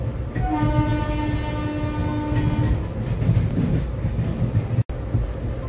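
The Bagh Express passenger train runs close by, its horn sounding one long, loud blast over a heavy rolling rumble of wheels and carriages that keeps going steadily throughout.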